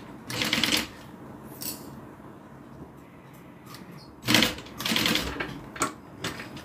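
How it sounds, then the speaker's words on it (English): A sewing machine stitches two change purse pieces together in a few short, moderately loud bursts, separated by quieter pauses with light handling noises. "now we're going to sew these together"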